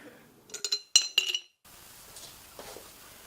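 Coins clink into a tip jar in a quick cluster of four or five bright metallic taps, followed by a faint, quiet rustle.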